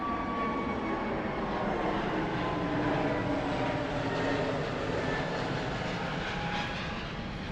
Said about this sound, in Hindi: अभी भी देखो ये प्लेन कितना नीचे है।